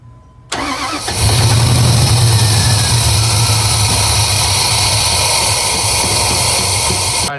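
Engine of a RAM 1500 pickup cranking during a compression test with the fuel pump disconnected: a sudden loud, steady whirring drone that starts after a short quiet moment and runs on evenly to the end, close by.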